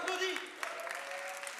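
Audience applause at a live slam poetry competition, a steady broadband patter of many hands clapping at moderate loudness, with a faint voice tone running beneath it.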